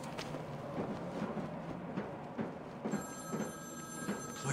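A telephone rings in Batman: Arkham City, repeated old-style bell trills sounding at moderate level over a low game ambience, with a steady electronic tone joining partway through.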